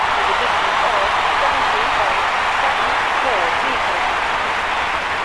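Steady roar of a stadium crowd applauding after an Olympic throw in the London 2012 Olympic Games video game, a continuous wash of clapping and cheering at even loudness throughout.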